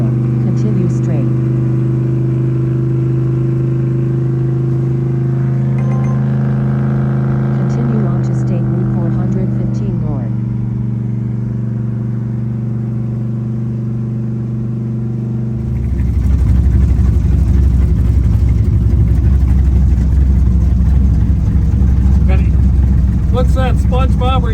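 Car engine at steady drive during Sick Week drag-racing road travel near Orlando, then suddenly floored into a loud, rough, sustained roar; the acceleration is close and dominant, with voices heard over the earlier cruising drone.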